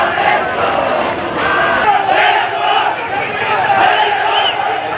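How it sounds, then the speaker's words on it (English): Young demonstrators chant together at a street rally against a social media ban and corruption, a loud, continuous crowd roar with rhythmic shouted phrases. "young demonstrators began with the national anthem before chanting against the social media"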